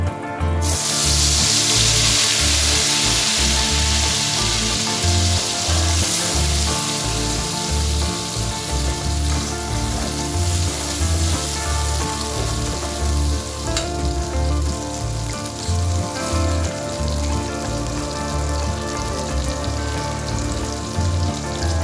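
A paste of cashew, ginger, tomato and chili sizzles loudly and steadily in a pan for paneer, a dense, continuous crackle and hiss with no talking.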